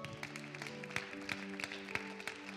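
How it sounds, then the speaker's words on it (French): A congregation applauds during a church service, sparse hand claps landing over a sustained musical backdrop with steady tones, the clapping quiet and somewhat distant. "Est-ce qu'on peut applaudir ces personnes ce matin?"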